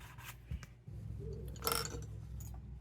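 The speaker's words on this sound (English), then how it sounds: "I'm just going to take my canvas cloth and rub that thing until she's smooth." Canvas cloth rubbed along a wetted leather edge to burnish it, a soft, close, steady scraping friction with a brief sharper rasp partway through, heard alone.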